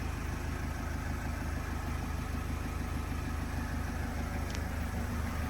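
Renault Trafic 2.0 diesel passenger van from 2011, 115 hp, idling steadily at close range, a continuous low rumble with an even, unbroken tone and no voices.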